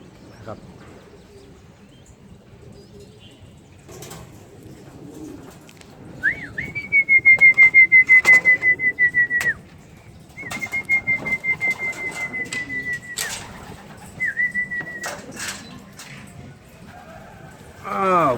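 Homing pigeons flutter and land around a loft while a shrill whistle sounds in several long, steady blasts, with scattered wing flaps, faint taps and some voices in the background.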